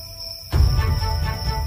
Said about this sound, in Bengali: চারিদিকে ঝিঝি ডাকছে